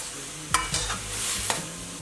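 A sauce of steamed-fish soy sauce, aromatic vinegar, pepper, light soy sauce and white sugar stirred in a pot: a few distinct scraping strokes against the pot over a soft simmering sizzle.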